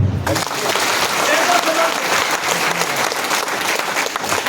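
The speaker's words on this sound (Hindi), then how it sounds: "चलो जी, ताली बजाओ" A dense, loud burst of applause fills a lecture hall during a motivational education talk, with many hands clapping continuously from start to finish.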